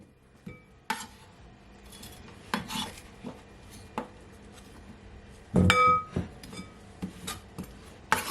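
Cut potatoes being rinsed in a glass bowl in a home kitchen: scattered clinks, knocks and scraping rubs of wet potato pieces against glass, with one louder splashing burst midway, no talk.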